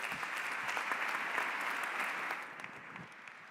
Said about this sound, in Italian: Vi chiederei un altro applauso sostenuto per iniziare questa sessione di positività